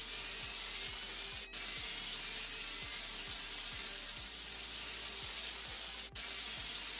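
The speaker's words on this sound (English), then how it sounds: "pull down the handle to spray a jet of CO2 at the fire" A CO2 fire extinguisher sprays a jet at a fire in virtual-reality fire-safety training: a steady, loud, continuous hiss runs unbroken, with faint, evenly spaced low thumps beneath it.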